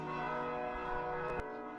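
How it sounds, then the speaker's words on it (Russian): Church bells in Gzira, Malta, ring out for Palm Sunday, their bright, sustained tones overlapping and humming steadily, with a sharper strike near the end. "Тем временем микрофон и видеокамеры все больше наполняет колокольный звон"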